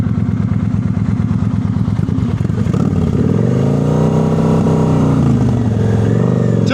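Motorcycle engine during slow-speed riding practice in North Carolina, a close, steady low rumble held on the throttle, with pitch rising and swelling partway through as the revs build.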